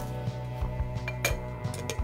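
A small in-car coffee maker and its supplied jug are handled, giving a few light clinks and knocks of plastic and glass over a steady low hum, with no talking.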